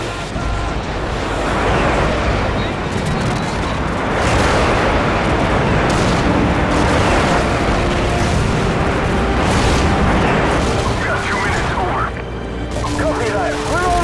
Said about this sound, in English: Target confirmed. Stand by for airstrike.